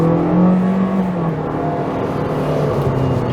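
A 2022 Toyota Corolla Hatchback SE Night Shade engine accelerates with a steady, loud droning hum whose pitch climbs slowly. It is heard from inside the car, with no voices over it.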